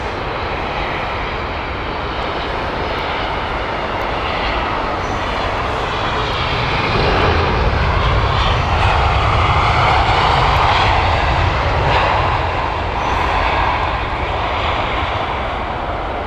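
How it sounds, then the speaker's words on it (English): Boeing 747 jet engines at Heathrow Airport as the airliner lines up for takeoff: a continuous, broad roar that swells slightly midway and holds steady at a moderate distance. "Looks like could be number 3 for takeoff. 747."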